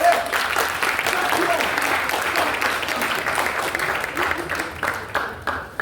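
Sustained applause from a crowd at a memorial tribute, steady clapping filling the whole stretch, fairly loud and close, with a few voices mixed in beneath.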